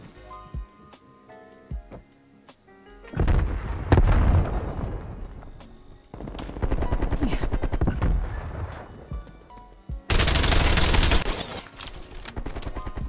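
Video game gunfire in bursts: scattered single shots, then sustained loud rapid volleys with blasts in three dense stretches, close and harsh.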